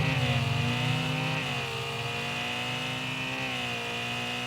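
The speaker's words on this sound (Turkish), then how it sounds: "Motoru çalıştır." A car engine in the Car For Sale Simulator video game roars loud and steady, its pitch dipping and settling into a sustained rev with no voices over it.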